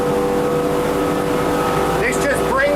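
SilverCAT 34HT boat running flat out at full throttle around 46 knots, a loud continuous engine roar and rushing water, with a speaking voice and brief whistling tones near the end.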